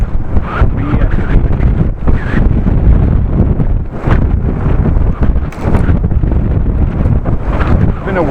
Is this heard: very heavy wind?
yes